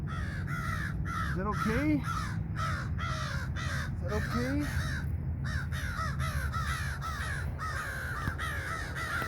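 A crow caws repeatedly and loudly nearby, harsh rhythmic calls in quick series, while a person talks over them.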